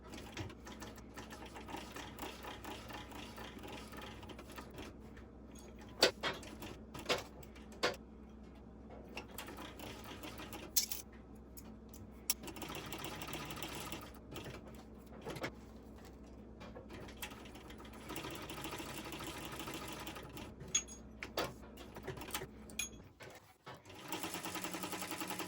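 A sewing machine topstitches shoulder bag connectors with quiet, steady whirring at close range, broken by soft ticks and clicks as the fabric is turned, with no talking.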